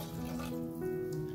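Water runs from a tap into a pot for mushroom pilaf, a short steady splashing pour at moderate level with no voices over it.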